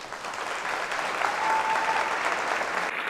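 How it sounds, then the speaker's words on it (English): A short burst of steady audience clapping fills an employee of the year awards ceremony hall, loud and even throughout. "Everyone, let's give a very big round of applause."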